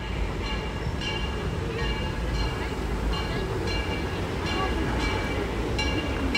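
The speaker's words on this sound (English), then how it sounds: "We see the railroad go overhead." The Disneyland Railroad train rumbles by overhead in a steady, heavy roar, with rhythmic metallic clicks and squeals of wheels on the rails throughout.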